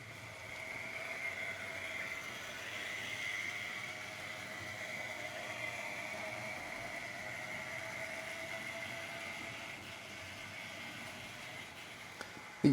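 Tri-ang model saddle tank locomotives run on track with a constant, faint mechanical whir and buzzing hum from their motors, a steady drone that carries on for several seconds with no talking.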